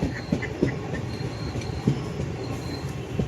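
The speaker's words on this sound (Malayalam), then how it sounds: "ഞാൻ ട്രെയിനിലാണ്." From inside a moving train, a steady rumble of wheels on rails carries faint rhythmic clatter and short squeals, continuous and alone.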